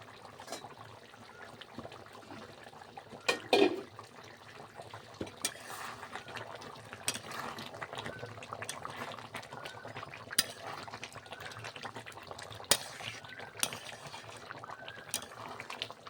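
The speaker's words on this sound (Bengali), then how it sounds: "10-15 মিনিট মতো ঢাকা দিয়ে ভালো করে তরকারিটা ফুটিয়ে নেব" Chicken curry with potatoes simmers in a covered pot, giving a faint, continuous bubbling with scattered small clinks and knocks.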